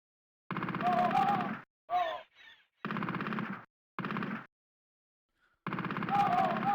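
Chiptune-style gunfire from a retro video game running on MiSTer FPGA: buzzy, rapid-fire bursts lasting about a second each, split by short silences and a few brief chirping shots.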